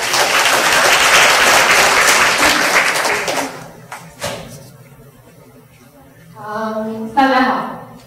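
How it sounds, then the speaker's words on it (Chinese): A seated audience at a working-holiday information session in Taichung gives loud, full applause to welcome a speaker. The clapping holds for about three seconds and then fades, and a voice begins talking into the quieter room. "给大家掌声欢迎"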